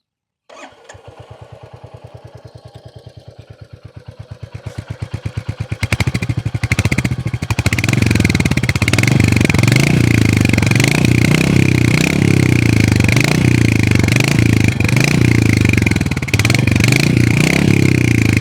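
A Royal Enfield Hunter 350 motorcycle is started close by: a rapid clattering crank, then the engine catches and settles into a loud, steady, thumping exhaust note.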